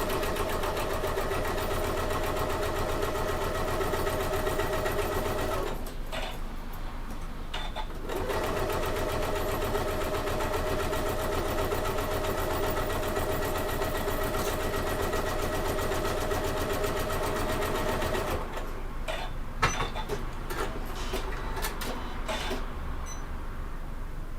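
Sewing machine stitching a fabric bag, a loud, fast mechanical chatter running continuously, broken by two short pauses where the needle stops before resuming.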